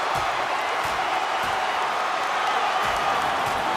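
An arena crowd in NHL 23 roars during a hockey fight, a steady, dense wash of cheering and shouting that holds at an even loudness throughout, with faint thuds beneath.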